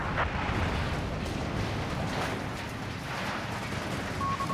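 Double loitering air strikes in Company of Heroes 3 produce a dense, continuous roar of rumbling explosions, with heavy blasts repeating over a noisy battlefield bed and no talking.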